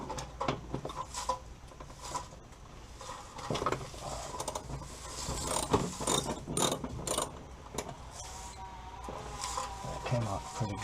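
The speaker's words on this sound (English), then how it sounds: "Now we're going to take these connections off with a ratchet." A ratchet clicks away at the starter solenoid connections on a Mustang, the quick bursts of clicking repeating throughout among rustling and small clanks, fairly quiet, with a voice now and then.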